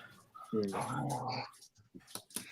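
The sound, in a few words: dog growling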